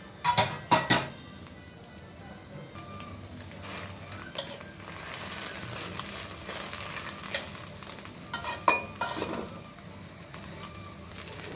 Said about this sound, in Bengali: বন্ধুরা আরও একটা ডিম ভেজে নিব আজকে ডিম ভেজে রান্না করব